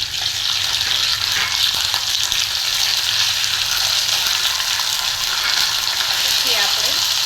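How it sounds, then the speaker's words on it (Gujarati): Ginger, chili and garlic paste sizzles in hot oil with cumin seeds, a loud, steady, close crackling fry that continues without letup, with faint stirring and no clear talk. "જીરું થવા આવે એટલે આદુ મરચાંની પેસ્ટ, આદુ મરચાં અને લસણની પેસ્ટ નાખીશું."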